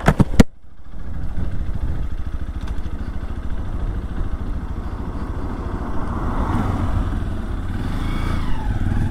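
A Honda XR150L motorcycle starts up on a mountain parkway with a short burst, then settles into a steady, loud, close single-cylinder idle that continues alone.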